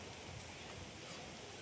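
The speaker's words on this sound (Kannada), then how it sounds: "ಓಹೋ ಈ ಮಳೆಲಿ" Steady rain falls near Harangi dam, a faint, even hiss of drops on surfaces with no talk.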